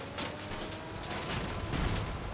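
Mortar fire in the vehicle combat game Crossout, a dull run of thumping blasts and rumbling impacts at moderate level over a steady background of engine and battle noise.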